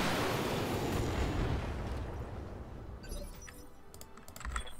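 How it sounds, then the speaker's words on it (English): A mech in a BattleTech-style video game fires all its weapons at once, a loud rumbling roar of blasts that fades over a few seconds into scattered sharp clicks and impacts. "We're going to shoot this guy. Firing everything."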